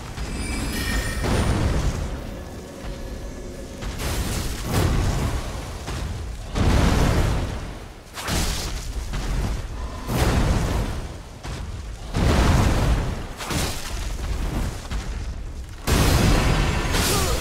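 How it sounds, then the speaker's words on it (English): Missiles fired by a boss in Elden Ring exploding, a series of loud, close, booming blasts in repeated bursts separated by brief lulls. "he has got missiles?"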